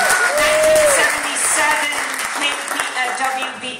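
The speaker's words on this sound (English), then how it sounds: "Feel free to applaud." Audience at a benefit event applauds during a speech, a broad wash of clapping heard under a voice and other overlapping sound, fairly loud and close throughout.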